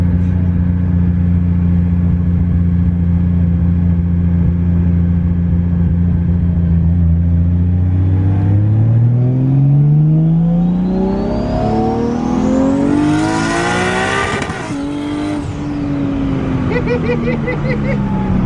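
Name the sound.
widebody Nissan S13 with 1JZ engine accelerating at full throttle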